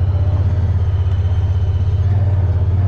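A 2022 Honda Pioneer 1000-5 Forest Edition side-by-side drives along a service road, its engine a steady, loud, pulsing low rumble heard from on board, with no talk.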